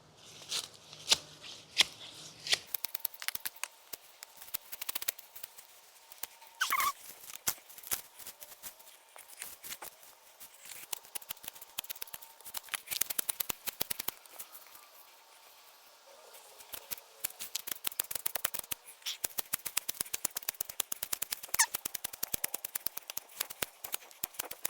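Garden plants gone to seed being cut down, a long stretch of rapid dry snipping and rustling crackle, close and steady with brief lulls.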